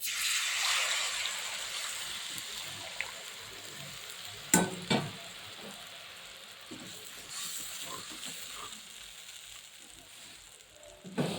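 Quiet, steady sizzling of black cumin seeds and green chilies in hot oil, with a few sharp clinks and scrapes of a utensil against the pan.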